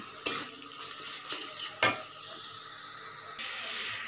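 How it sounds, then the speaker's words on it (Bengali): Ginger, garlic, onion, tomato and spices fry in oil in a pan with a steady low sizzle, broken by a few sharp scraping stirs and clinks of a utensil against the pan. "তো আদা রসুন পেঁয়াজ টমেটো তেলে ভালো করে ভাজা হয়ে গেছে"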